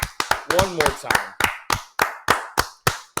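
A person claps their hands in a quick, steady run of about a dozen sharp claps, close up, with a short bit of voice near the start.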